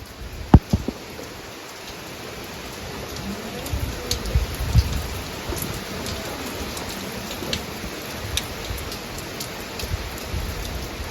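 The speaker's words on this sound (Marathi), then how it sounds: "मगापेक्षा आता तर पावसाचा जोर आणखीनच वाढून गेलाय" Steady rain pours down with a constant wash of noise and occasional louder drops and splashes nearby.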